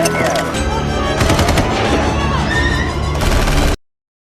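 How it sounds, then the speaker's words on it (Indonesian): Police gunfire erupts in a film scene, a dense, loud burst of rapid shots and crashes lasting several seconds before cutting off abruptly. "2 orang ditembak polisi persis di depan mata Julia"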